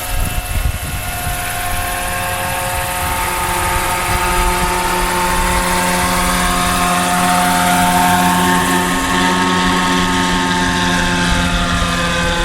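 A radio-controlled Roban MD-500E 800-size helicopter hovers and flies, its rotor and turbine-like whine holding steady and loud throughout with layered tonal harmonics, no voices.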